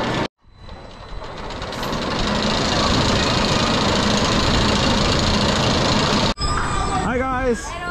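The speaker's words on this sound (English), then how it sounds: "Haven't ridden this roller coaster in a very, very long time. And here it comes with its very strange trains." A roller coaster train at Skara Sommarland rumbles past close by, a loud continuous roar that swells and then cuts off, followed by brief squealing sounds.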